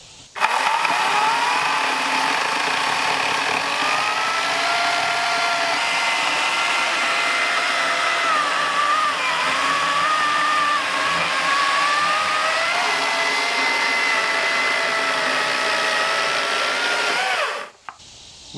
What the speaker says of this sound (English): we're going to use the Badger first to cut through here